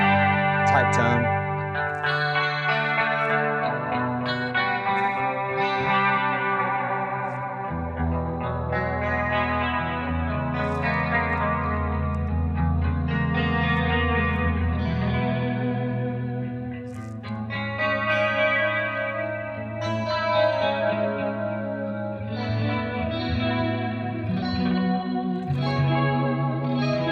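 Electric guitar played through a Memory Man analog delay pedal gives sustained chords and picked notes with repeating warm echoes trailing off, continuous and fairly loud with no talking.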